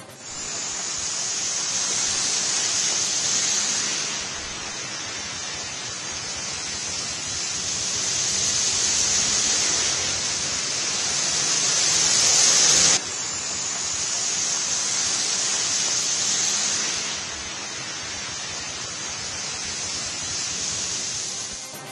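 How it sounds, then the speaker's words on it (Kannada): Heavy downpour in Delhi on flooded roads, a dense, steady roar of rain hissing loudly and evenly throughout, swelling and easing slightly in waves with no voices. "ಧಾರಾಕಾರ ಮಳೆಯಿಂದ ರಸ್ತೆ ತುಂಬ ಎಲ್ಲ ನೀರು ನಿಂತು ಸವಾರರು ಪರದಾಡುವಂತಾಗಿದೆ"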